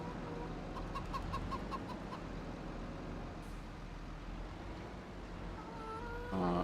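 Chickens clucking in Farming Simulator 25 on a busy farm, a steady cluster of bird calls early on over a constant low engine-like drone, with a louder mechanical burst near the end.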